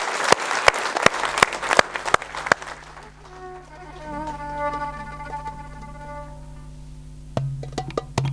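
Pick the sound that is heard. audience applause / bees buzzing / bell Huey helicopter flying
audience applause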